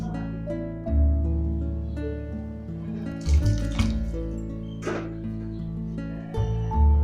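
Water splashing and pouring into a pot of poricha kuzhambu with ground coconut, with bubbling and clinking over a steady low kitchen hum.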